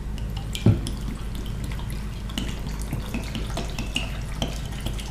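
Water splashes and drips into a blender for a soursop smoothie, with a sharp splash near the start followed by steady trickling and light dripping.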